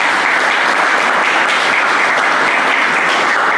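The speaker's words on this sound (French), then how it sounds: "Applaudissez pour moi." Wedding guests at a traditional ceremony clap loudly and steadily, a dense, continuous wash of applause filling the room without a break and with no voices rising above it.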